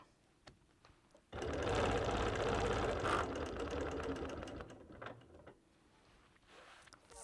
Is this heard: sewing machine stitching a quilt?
yes